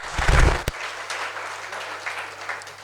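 Applause from an audience at a seminar fills the room, a dense patter of many hands clapping that stays fairly steady throughout after a brief louder thump at the start.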